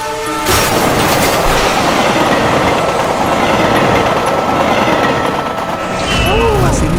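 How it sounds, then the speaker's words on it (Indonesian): A train passes on the rails at an Indonesian level crossing, its loud, steady rumble and clatter continuing close by for several seconds, with a brief squeal near the end. "ada kereta lagi yang melintas di sisi rel selatan"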